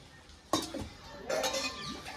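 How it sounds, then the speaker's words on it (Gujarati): Dishes being washed in a home kitchen give a sharp clink of metal utensils, then a looser run of clattering and scraping, heard fairly close against a quiet background. "વાસણ ધોવાય છે"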